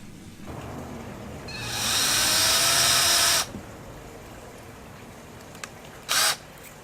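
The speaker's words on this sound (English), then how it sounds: "So I've drilled my pilot hole." A power drill boring a pilot hole into a plastic kayak hull, one sustained whining burst of about a second and a half followed later by a short second blip, close and clear in a quiet outdoor setting.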